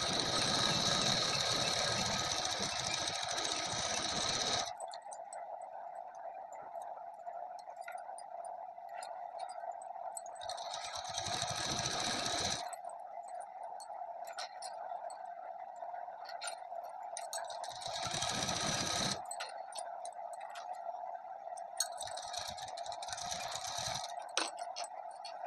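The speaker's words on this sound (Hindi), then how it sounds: "अब हमें इसी तरह से उस साइड भी सिलाई लगा लेनी है" A sewing machine runs in bursts while stitching a suit seam, each spell a fast, steady mechanical whir and clatter, close and clear, broken by short pauses. A low hum carries on between bursts, and no one speaks.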